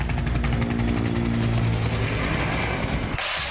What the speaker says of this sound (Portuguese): 2 helicópteros davam cobertura